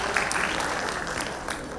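Audience applause at a stage function, a steady dense clatter of clapping hands that fills the whole short stretch at even loudness, with no voices over it.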